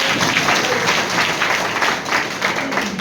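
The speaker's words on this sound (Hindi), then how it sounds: "हाथ खड़ा कर दीजिए, ताली बजा दीजिए, ताली बजा दीजिए।" A crowd at a product presentation claps steadily and loudly for about three seconds, a dense continuous patter with faint voices underneath.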